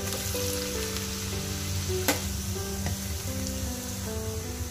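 Chopped garlic and ginger frying in oil for restaurant-style chilli fish, a close, lively sizzle with stirring scrapes and a couple of sharp clinks, no talking.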